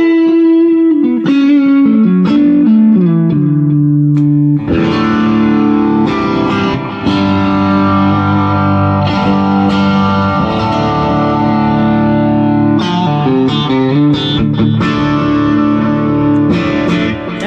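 Electric guitar played through effects pedals with heavy distortion, echo and chorus, sustained chords and melodic notes ringing loudly and continuously throughout.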